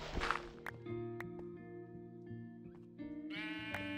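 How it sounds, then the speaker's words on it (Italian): A sheep in a Minecraft-style video game bleats in a few bright, wavering calls, fairly quiet and alone, with a short knock and a drip-like tick between them. "Una pecora che ci fa qui sotto."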